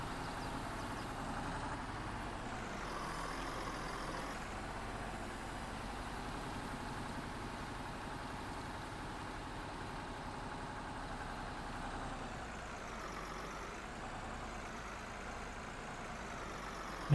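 A tractor engine drones steadily in Farming Simulator, a continuous, even idle-like rumble that holds at one level throughout with no voices over it.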